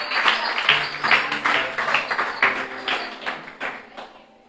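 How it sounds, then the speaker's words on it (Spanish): A church congregation claps in a rhythmic, rapid beat, roughly two claps per second, close and fairly loud, tapering off near the end. "Dele un fuerte aplauso al Señor."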